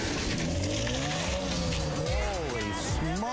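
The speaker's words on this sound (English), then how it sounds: "there's a lot of power in that car" A pastor's Camaro pulls away with tires squealing and the engine roaring hard, a loud continuous rush with wavering screeches while voices talk over it.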